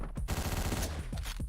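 Rapid gunfire from the top-down action game Hotline Miami rings out in a quick burst of sharp, punchy shots that repeat over a second and a half.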